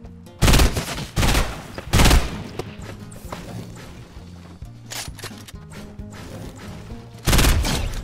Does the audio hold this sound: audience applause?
no